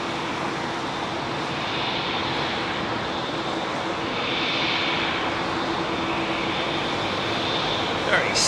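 An ANA Boeing 787-9 Dreamliner in Star Wars R2-D2 livery taxis slowly at London Heathrow, its engines giving a steady, moderately loud whine and rumble throughout with a faint tonal hum.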